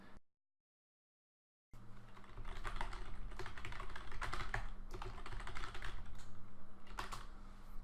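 Computer keyboard typing while a username and password are entered to log in during a Unity3D install, a steady run of close, quick key clicks after a brief silent gap at the start.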